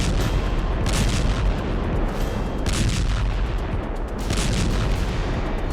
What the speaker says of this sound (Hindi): हमास नेताओं को पकड़ने के लिए खान यूनिस में हर जगह जबरदस्त बमबारी कर रही है